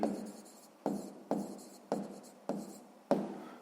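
Six firm pen strokes scratch across paper in a regular rhythm, each one a short rasping scrawl that fades before the next, close and quiet, while figures are written down for a sixth-grade maths exercise.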